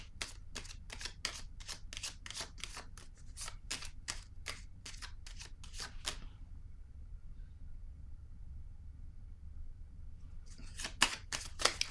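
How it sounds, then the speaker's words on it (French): Tarot cards being shuffled: a rapid run of crisp riffling flicks for about six seconds, then near silence, and a short burst of card snaps at the end, all close and fairly loud with no voices. "je vais piger une autre carte ici"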